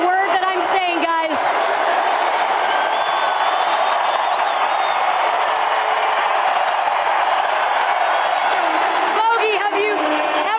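A roaring basketball arena crowd cheers and claps in a sustained loud wash of noise at a Utah Jazz game, with a voice speaking briefly at the start and end.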